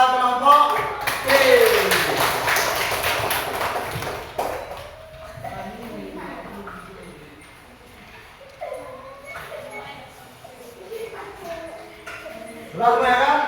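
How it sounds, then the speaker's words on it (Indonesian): A classroom group of students claps for a team, a dense burst of applause lasting about four seconds before thinning out, with voices talking afterward. "Oke, tepuk tangan kepada kelompok C."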